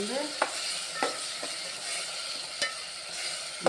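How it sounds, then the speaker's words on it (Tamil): Onion and tomato sizzle steadily in a pan, with occasional scraping stirs of a spoon every second or so. "பச்சை வாசனை போகிற அளவுக்கு வதக்கி"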